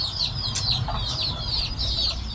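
A rooster gives a string of short, sharp clucks and calls, close and fairly loud, with steady low rumbling background noise and no talking.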